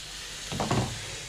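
A mud crab cooks on a barbecue with a soft, steady sizzle and hiss. A brief louder crackle of juice spits in the middle before the sound settles back.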